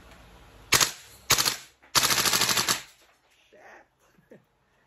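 Bursts of rapid gas blowback fire from a VFC Umarex HK416A5 airsoft rifle, three loud close bursts in quick succession, the last one longest, then a few faint mechanical clicks of handling.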